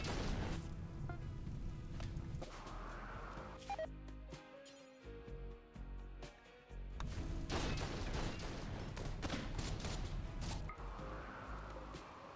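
Dense, relentless video-game gunfire and explosive booms from an attack on a settlement, with rapid overlapping shots and blasts that continue nearly without pause and ease briefly in the middle.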